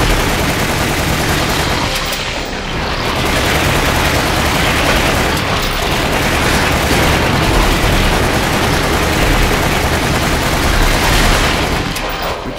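Dense, continuous gunfire from a Resident Evil: The Umbrella Chronicles shootout, a loud unbroken barrage of shots and blasts that thins briefly near the start and again at the very end.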